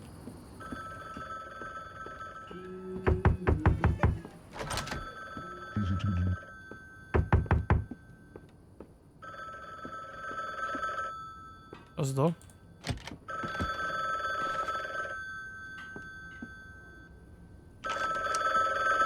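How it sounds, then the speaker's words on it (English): A loud telephone ringing in The Bookwalker: Thief of Tales video game, several sharp repeated rings in bursts with knocking thuds and a person talking between them. "I have a loud phone, don't I?"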